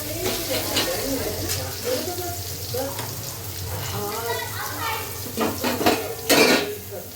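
Cooked brinjal being scooped from a kadhai onto a plate, with repeated clinks and scrapes of utensil against metal over a faint background sizzle, a few louder knocks near the end, and some indistinct voices in the background.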